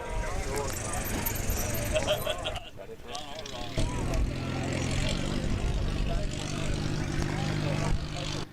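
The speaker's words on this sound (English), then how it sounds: "Patriot on low approach" A light propeller aircraft makes a low approach during an evening STOL demonstration at the Sun 'n Fun airshow, its engine droning loudly and steadily with a short dip in the middle, heard over crowd noise and a commentator talking.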